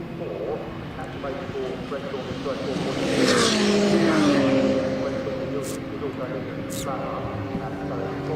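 Race cars sweep past at Snetterton circuit during a British Trophy race, engine note rising to a loud close pass around the middle and then fading, with a commentator talking over it.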